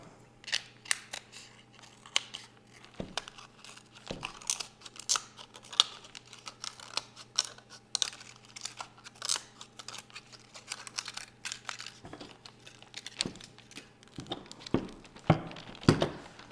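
Scissors snipping around a discarded plastic water bottle while shaping a bottle flower, a steady run of short, sharp crunchy cuts and clicks, fairly quiet and close, with no talking.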